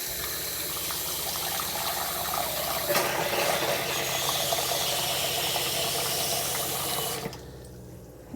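Running water pours steadily into an RV trailer sink for several seconds, with a brief clunk partway through, then cuts off near the end.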